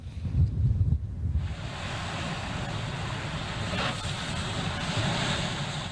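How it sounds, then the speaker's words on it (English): Storm surf from monster waves pounds the Massachusetts coast, a heavy, continuous roar mixed with strong wind buffeting the microphone, loud and steady throughout with no talking. "Coastal communities in Massachusetts pounded by monster waves."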